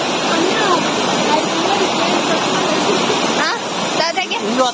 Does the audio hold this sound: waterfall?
yes